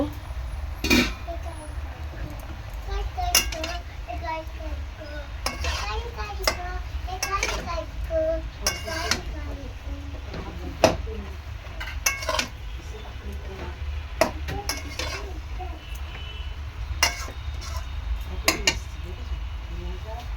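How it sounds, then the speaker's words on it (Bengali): A lid comes off a pot of cooking labra vegetables amid scattered metallic clinks and clatters of cookware, close and fairly soft over faint background noise. "ঢাকনাটা এবার খুলে নেব।"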